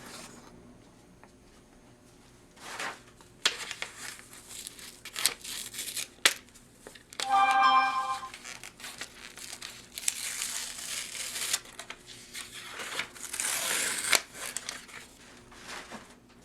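Sublimation transfer paper peels away from a freshly pressed rhinestone print, giving intermittent crinkling and tearing rustles, with a sharper ripping burst partway through and quieter handling noises between.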